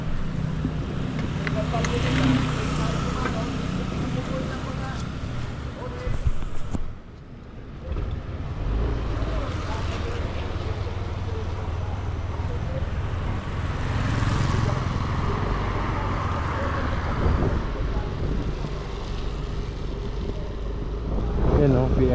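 Service boat engines run steadily during testing, a low continuous rumble with wind buffeting the microphone while people talk over it.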